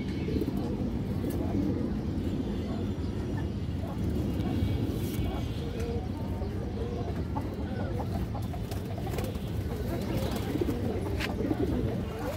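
Caged pigeons at a pigeon sale, with a female among them, make a continuous dense mix of cooing and clucking calls. Background voices murmur throughout the clip.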